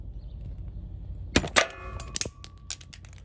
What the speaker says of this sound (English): cut the bolt seal like such